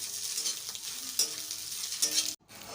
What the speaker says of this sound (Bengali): ডিমটাকে ফাটিয়ে ভেজে নিতে হবে প্রথমে।